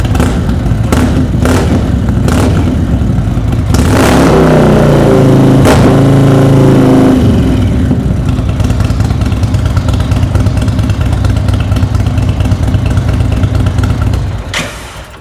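A 2021 Indian Roadmaster motorcycle engine idles loud and close with a deep rumble, then is revved hard several times in surging bursts before settling back to a throaty idle and dropping off near the end.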